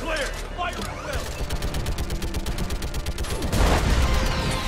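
Gunfire at a Reaper in Mass Effect 3, with a run of quick, rapid shots in the middle, followed by a heavier blast, all under voices speaking.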